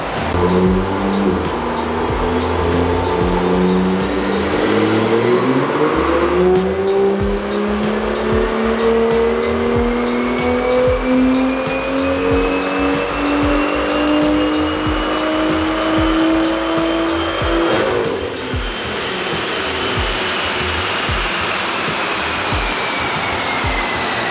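A tuned BMW M2 track car with bolt-on intake and downpipe revs hard on a dyno, its loud engine note climbing steadily through a long pull before dropping off near the end, with no talking.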